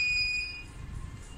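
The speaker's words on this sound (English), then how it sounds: "the buzzer and light is switching on and off, like how it happens in an ambulance." An Arduino-driven piezo buzzer gives a single high, steady electronic beep that cuts off after a moment, fairly quiet, over faint room hum.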